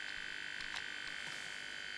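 A Vectrex game console gives off a steady, annoying high-pitched electrical buzz, constant and fairly close, with faint clicks and knocks over it and no talking.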